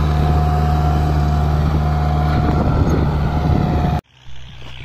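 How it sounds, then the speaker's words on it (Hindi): Kubota MU4501 4x4 tractor pulling an 11-tine cultivator through soil, a steady, loud, close diesel drone with constant engine hum and rattle, then an abrupt drop to a fainter rumble near the end. "आज हम आपको कुबोटा ट्रैक्टर का परफॉर्मेंस दिखाएंगे जो कि हमारे पास MU 4501 4x4 ट्रैक्टर है और ये आज कल्टीवेटर पर चल रहा है"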